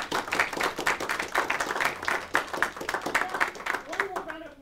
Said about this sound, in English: let's do a round of applause for Tyler